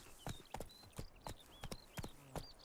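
Geralt's horse Roach trotting in The Witcher 3: quiet, rhythmic clip-clop hoofbeats at a steady pace, with small game sounds in the background.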